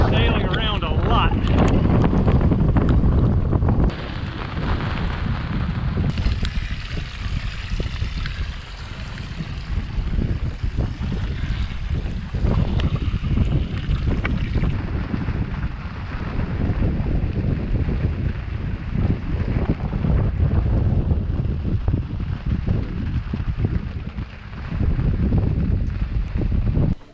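Strong, steady wind roars around an old sailboat swinging at anchor, a dense continuous rush with gusts and rattles that never lets up, while people speak now and then beneath it.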